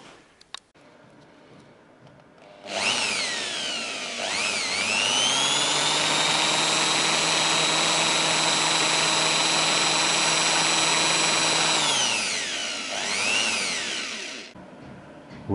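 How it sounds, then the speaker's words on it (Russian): A power drill bores steadily into a broken, center-punched bolt in a garage, the motor starting near three seconds, holding a loud, even whine with rising harmonics, then winding down around twelve seconds, with brief spin-ups afterward. "Вот на эту глубину и будем сверлить."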